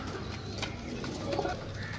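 Pigeons softly coo over a constant background hum, with low, faint calls at close range and no talking.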